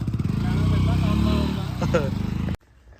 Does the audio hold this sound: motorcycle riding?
yes